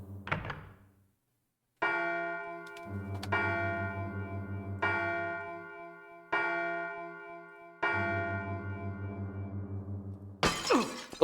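Deep clock bells toll slowly and resonantly in Silent Hill, five long chimes in a row, before a clock's glass cover shatters in a sudden bright crash at the very end.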